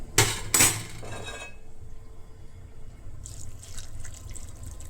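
Boiled water is poured into ghee-fried rice in a pot for biryani, opening with two sharp splashing clatters and then a quieter bubbling, hissing sizzle that swells again near the end.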